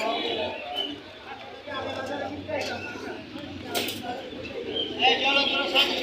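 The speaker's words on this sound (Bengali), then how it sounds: "এখানে এক জোড়া আছে কিং, কালো ব্ল্যাক কিং" Black King pigeons coo softly at a busy pigeon market in Hasnabad, Bangladesh, with scattered bird calls under steady, close talking and crowd bustle.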